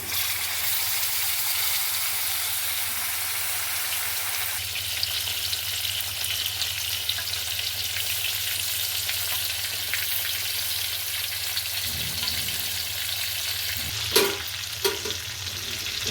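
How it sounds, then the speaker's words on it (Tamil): Fish fries in hot oil with a steady, dense sizzle and crackle throughout, with a few brief clatters near the end. "மீன் நல்லா ஃப்ரை பண்ணி எடுக்க வேண்டியதுதான்."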